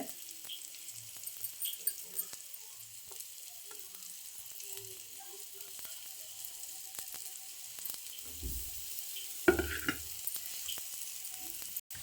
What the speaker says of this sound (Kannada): ಇದನ್ನು ಸಣ್ಣ ಉರಿಲೇ ಫ್ರೈ ಮಾಡಬೇಕು